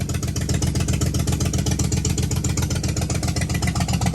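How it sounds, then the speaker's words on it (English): A rusty Ford Fox body Mustang pulled out of the woods idles steadily up close, its engine running in an even, rhythmic low pulse with no voices over it. "It's idling great."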